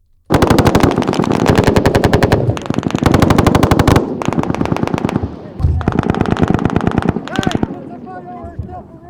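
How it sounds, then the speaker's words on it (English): Bursts of rapid automatic gunfire from A-10 Warthog combat footage, loud and close, rattling in long strings separated by brief gaps, with voices faintly present between bursts. "are you really just shooting wherever the bullets are coming from?"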